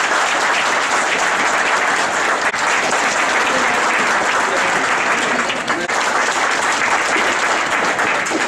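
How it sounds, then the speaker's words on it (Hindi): A crowd at a civic cleanliness survey event in Churu claps steadily to welcome a guest. The applause is dense and sustained throughout, with faint voices mixed in. "तालियों के साथ स्वागत कीजिएगा।"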